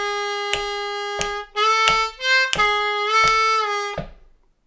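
A harmonica lick on a G harmonica in the style of a song: a sequence of clear, sustained held and bent notes with short gaps between them, played alone, loud and close, ending in a fading tail.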